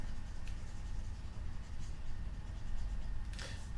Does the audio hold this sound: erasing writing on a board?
yes